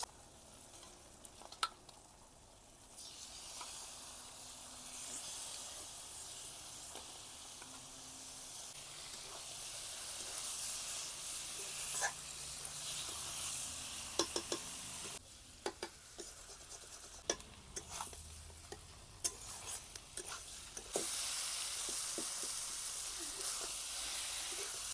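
Pork being added to cooked spice masala and frying, a faint steady sizzle broken by sharp clinks and scrapes of stirring, with louder bursts of hiss later, quiet and close with no speech.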